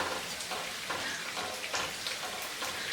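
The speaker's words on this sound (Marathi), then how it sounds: "एका बाजूने आपले वडे व्यवस्थित तळून वरती आलेले आहेत" Sabudana vada deep-frying in hot oil makes a steady, close sizzle with a dense bubbling crackle that holds evenly the whole time, with no voices.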